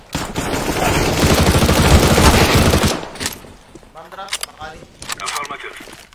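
AK rifle fire in a multiplayer shooter game: a dense, loud automatic burst rattles for about three seconds, then gives way to scattered clicks and team voices chatting.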